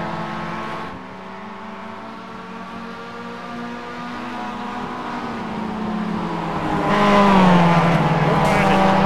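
A Mazda MX-5 four-cylinder racing engine winds up tightly through the gears, a steady strained drone that dips at a shift and climbs louder near the end, with a voice talking over it.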